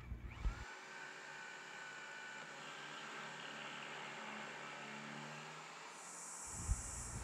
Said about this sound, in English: I'm just getting the four pilot holes, like I said, with the hammer drill